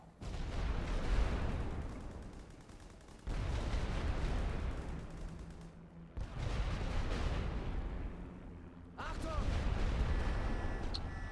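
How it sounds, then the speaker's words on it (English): Rolling artillery barrages pound in a World War I Western Front strategy game, a dense, continuous roar of explosions in long surging waves, loud and heavy. "In come the rolling barrages."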